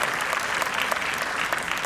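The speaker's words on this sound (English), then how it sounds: "Let us please have another round of applause for these wonderful ladies." At a ballet show in Jaipur, an audience gives the dancers a brief, steady burst of thick applause, continuous and moderately loud throughout.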